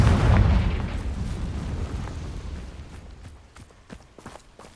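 A Confringo blast spell from Hogwarts Legacy on PS5 erupts in one loud, deep boom right at the start, then rumbles and fades over several seconds while sharp crackles and small pops scatter through the tail.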